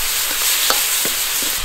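Soy sauce hitting a hot wok of blanched chicken feet with cooking wine, producing a loud continuous sizzle with a few soft stirring knocks.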